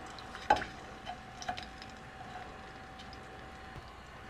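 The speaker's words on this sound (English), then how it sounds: "And just let that sizzle for maybe 30 seconds or so." Star anise and a broken cinnamon stick sizzle in hot oil, a soft, steady crackle that brings a few sharper pops and clinks near the start.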